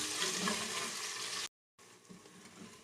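Onions frying in hot oil with fenugreek seeds, a loud steady sizzle that cuts out briefly and then resumes more quietly, with no talk over it.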